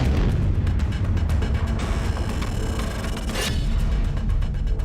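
A nuclear bomb explosion sound effect plays as a sustained, loud, rumbling roar with crackling bursts throughout, dense and overwhelming from start to finish, with no speech.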